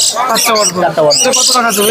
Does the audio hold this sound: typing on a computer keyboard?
no